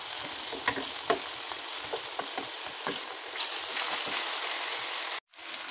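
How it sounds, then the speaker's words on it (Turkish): Chicken drumsticks frying in a pot, turned side to side: a soft steady sizzle with scattered crackles and pops, fairly quiet and close, with a brief dropout near the end. "şimdi tenceremizde güzelce şöyle bir 5-6 dakika arkadaşlar butlarımızı şöyle sağını solunu çevirerek kızartalım."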